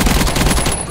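Rapid automatic gunfire from a gun in Minecraft during a zombie-pig survival game, with a steady run of close, loud repeating shots across the whole moment and no talking.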